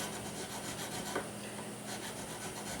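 A nut file rasps back and forth in the grooves of a guitar nut, making a soft, steady scraping close by at low volume.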